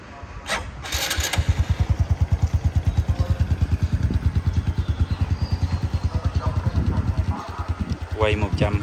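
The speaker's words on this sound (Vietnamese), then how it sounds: "bây giờ em nổ máy cho mọi người nghe nha" A 2011 Honda Wave 125i motorcycle engine cranks, catches and settles into a loud, steady chugging idle up close, with a voice briefly heard near the end.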